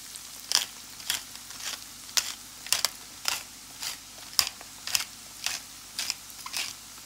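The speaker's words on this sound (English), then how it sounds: "I'm gonna freshly grind some black pepper over this" Black pepper is freshly ground over a broccoli, cauliflower and scalloped potato casserole, giving a steady, evenly spaced series of short crunchy grinder clicks, close and fairly clear, with no voices.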